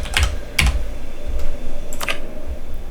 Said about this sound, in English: So it's just the F key on the keyboard.